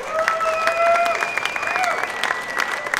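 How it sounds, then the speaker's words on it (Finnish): Audience applause for teams and sponsors at a competition finale, brisk clapping from a crowd with a few whistles and cheers over the top. "vielä kerran kaikille tiimeille ja yhteistyökumppaneille raikkaat aplodit"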